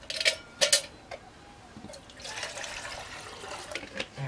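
Water splashes and rinses inside a small metal survival tin outdoors, with a couple of sharp splashy bursts early on and then a longer, softer trickle and slosh, fairly close and quiet.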